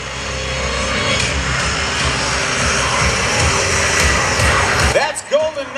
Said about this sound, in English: And that is a de Havilland Twin Otter, one of the aircraft that they use.